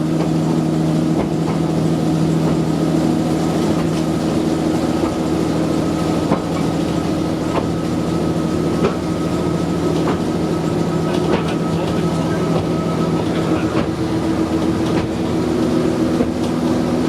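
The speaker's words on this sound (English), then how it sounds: "They have a 3-cylinder diesel engine, a hydraulic pump to the engine, and a hydrostatic drive to the axle." Diesel tram with a 3-cylinder engine, hydraulic pump and hydrostatic axle drive rolling along track, a steady low engine drone and hum with faint rhythmic clicks of wheels over rail joints throughout, no voices.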